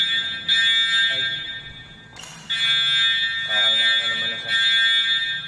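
An FDAS fire alarm panel sounding during a test with the fire protection bureau, a loud continuous electronic tone that breaks once with a clatter, with people talking nearby.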